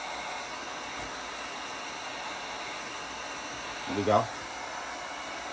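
A heat source blowing a steady, hissing rush of air to soften an aftermarket vinyl skin wrap on a Pro-Boat Blackjack 42 RC boat. It runs continuously at close range, and a brief spoken remark rises near the end.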